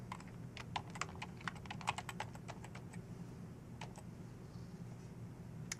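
Keys on a computer keyboard are tapped in quick irregular bursts while a login email, username and password are entered, crisp close clicks over a low steady room hum, with a short pause before a final few taps.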